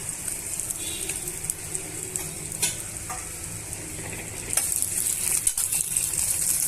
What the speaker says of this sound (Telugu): స్టవ్ని సిమ్లో పెట్టుకొని వేయించుకోండి. ఇవన్నీ దోరగా వేయించుకోవాలండి.